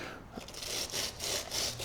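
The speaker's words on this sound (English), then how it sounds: "I tend to go through with my little brush here and start scrubbing the dirt away" Small brush scrubbing dirt off a motorcycle chain, a close, steady run of rhythmic bristly strokes with short swishing pulses.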